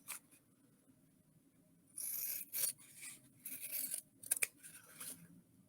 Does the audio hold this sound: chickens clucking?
no